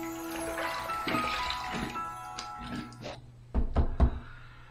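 Running tap water splashes and trickles for a rinse after a shave with a Stirling razor, steady at first, then a few sharp knocks and splashes near the end.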